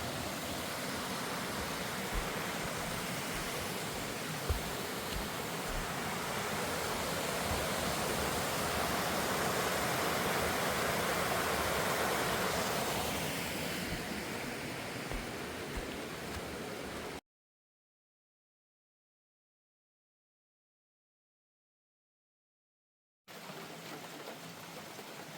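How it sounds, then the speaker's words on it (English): Light drizzle falling outdoors on the Appalachian Trail in North Carolina, a soft, even hiss of rain that rises a little midway, then stops abruptly into silence before resuming briefly at the end. "it started sprinkling, and the sprinkling turned to drizzle"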